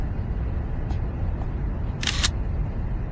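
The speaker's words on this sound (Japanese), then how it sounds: "俺にはいつもと変わらないシャッター音だけどな。" A Nikon camera shutter snaps once, sharp and near, preceded by a couple of faint ticks over a low steady background.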